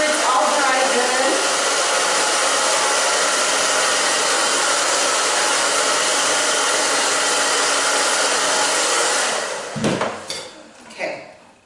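A hair dryer roars loudly and steadily while blow-drying short hair, then cuts off near the end, followed by a few soft handling clatters.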